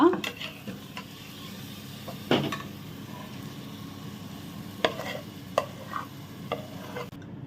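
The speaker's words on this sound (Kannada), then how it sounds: "ಈಗ ಇದಕ್ಕೆ ಮ್ಯಾರಿನೇಟ್ ಮಾಡಿಟ್ಟ ಮಟನ್ ಅನ್ನು ಕೂಡ ಹಾಕಿ ಬಿಡುವ" Marinated mutton being tossed into a pan and mixed for a New Year donne biryani, gentle sizzling under scattered scrapes and clinks of a spoon against the pot.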